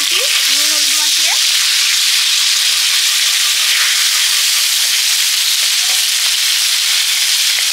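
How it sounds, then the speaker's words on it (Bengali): Snakehead fish coated in salt and turmeric fry in hot oil, making a loud, steady, close sizzle that continues throughout, with a brief tonal squeak near the start. "শোল মাছগুলো ভাজতে দিয়েছি নুন হলুদ মাখিয়ে।"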